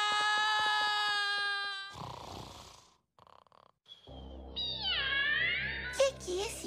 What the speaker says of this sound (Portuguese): O que esse gato está fazendo aqui?